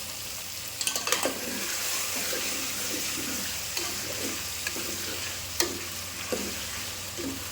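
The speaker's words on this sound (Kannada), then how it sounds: "ನಾವು ಮಸಾಲೆ ಎಷ್ಟು ಚಂದ ಫ್ರೈ ಮಾಡಿದೆವು" Masala and tomato frying in a pan with a steady sizzle, broken by occasional sharp scrapes and clinks of a stirring spoon against the pan.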